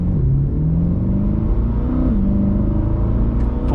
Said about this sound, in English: Let's go to a complete stop. Now you see there's a curve up there, so I'm not going to be stupid crazy, but let's accelerate pretty fast.